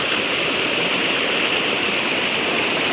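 A creek's strong current rushes over rocks, a loud, constant close-up roar of flowing water with a bright splashing hiss and no other sounds.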